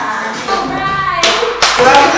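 Hand claps keep time in a live Punjabi dance step: two or three sharp, loud claps ring out over bright, ongoing music, spaced about half a second apart.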